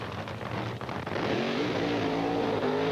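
Drag racing cars roar at the 1985 NHRA Summernationals in Englishtown, New Jersey: a loud, sustained engine blast whose pitch climbs steadily as the cars accelerate, filling the whole stretch without a break.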